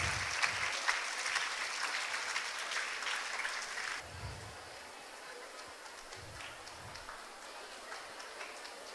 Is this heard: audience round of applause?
yes